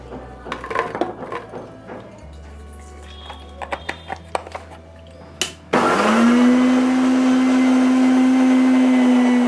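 A kitchen blender grinds two onions with ginger, garlic and chili into a masala for fish curry: a few light clicks and taps come first, then the motor starts abruptly and runs loud and steady for several seconds.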